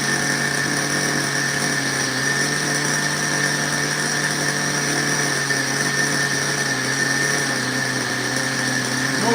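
An O'Donnell ZO1B RC engine idles at close range, giving off a loud, steady, high-pitched buzz that stays even for the whole stretch, with no talking.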